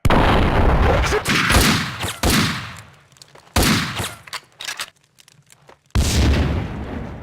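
Gunfire in the video game Max Payne: loud bursts of shots and booming blasts in clusters, breaking off into brief gaps before another heavy volley erupts.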